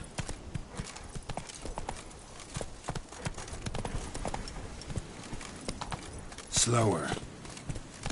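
Roach, the horse in The Witcher 3 video game, trots with rhythmic, close hoof clip-clops that run throughout, while someone speaks briefly and a short whinny-like cry rises near the end.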